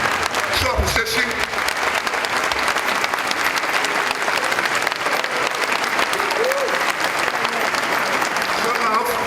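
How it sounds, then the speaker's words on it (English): A crowd at a symposium on Ghana's 2012 election petition judgment claps loudly and continuously, a dense unbroken roar of hands with voices talking and calling out underneath. "Keep on clapping."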